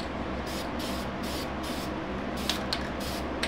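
Rattle-can spray paint hissing a second, heavier coat onto car rims, a continuous close airy spray over a few seconds with slight pulses near the end, no voices.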